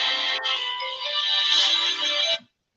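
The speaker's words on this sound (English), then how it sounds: "The phone ringing." A telephone ringtone plays loud and steady for more than two seconds, a continuous electronic ring that cuts off abruptly, with no talking over it.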